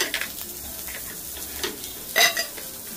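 Onions fry in hot oil for a tempering, producing a soft sizzle with brushing stir strokes and a louder scrape near the end, with no talking.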